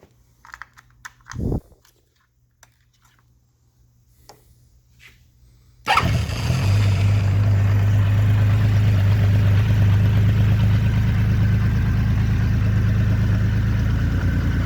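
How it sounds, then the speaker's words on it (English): A 1979 Honda CBX motorcycle, a restored silver bike with a redone cylinder head, starts after a few seconds of quiet clicks and then settles into a loud, steady, smooth idle that runs to the end. "Lest we draw your ire by not starting it up, here it is."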